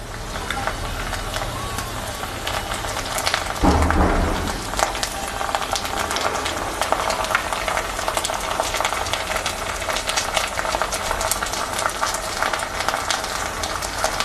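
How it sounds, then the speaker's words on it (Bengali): Ginger and garlic paste frying with onions in a pan for chanda fish curry, a steady close sizzle with a stirring scrape near the start. "আদা রসুন বাটাটাকে ভালো করে ভেজে নেব"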